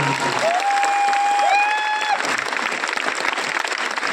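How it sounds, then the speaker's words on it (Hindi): A business event audience gives a loud round of applause for a speaker, dense clapping throughout, with a brief whistle-like tone rising over it early on. "मैं चाहता हूं शिव कुमार सर के लिए एक बार जोरदार ताली"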